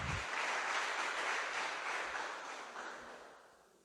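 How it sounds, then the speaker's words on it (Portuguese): A church congregation claps together at an evening service, a dense wash of applause that starts strong and slowly fades toward the end, heard from some distance and fairly quiet overall. "Dá um louvor de palmas para o Senhor nessa noite"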